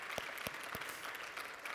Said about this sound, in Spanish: Now you can give that big applause to the Lord.